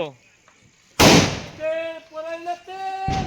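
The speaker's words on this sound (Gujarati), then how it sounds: "ફટાકડા ફોડે છે" A sharp Diwali firecracker bang bursts out suddenly, followed by voices and a second pop near the end, loud and close.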